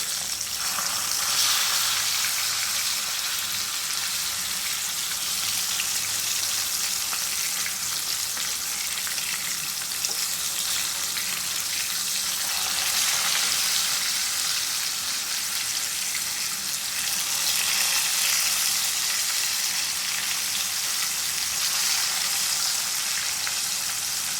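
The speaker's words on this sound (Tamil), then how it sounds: "ஒரு பக்கம் மீன் நல்லா வெந்துடுச்சு. இப்போ இன்னொரு பக்கம் அப்படியே நைஸாக பெரட்டி விட்டேன்" Fish, a single kuzhanja fish, frying in a pan after being flipped to its second side; a steady, close, loud crackling sizzle runs throughout with faint swells and no talking.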